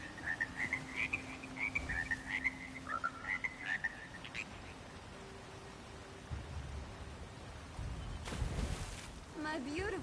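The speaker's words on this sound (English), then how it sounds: "My beautiful frogs." Frogs croaking in the video game Elder Scrolls Online Blackwood, a series of rising and falling croaks at first, then a lower burst and ambient rain-like noise, with a character voice in the background.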